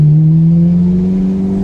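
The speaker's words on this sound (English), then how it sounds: "It's the same, it's a Ferrari engine." A Ferrari engine revs loudly and close during a test drive, holding a strong, steady tone that climbs slightly in pitch over under two seconds, with no voices.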